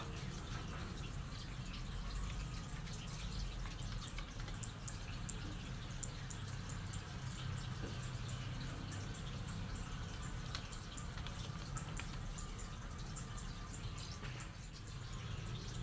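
Running water splashes and drips steadily as basil (kemangi) leaves are rinsed clean, a continuous close wash with no voices.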